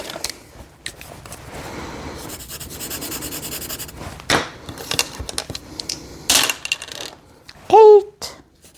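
Dice clatter and rattle as they are rolled during a Shut the Box board game, with several short bursts of tumbling and knocking on a hard surface, close and fairly loud.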